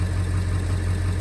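A truck engine runs at a steady idle, a continuous low, even rumble close by with no voices and no change in pace.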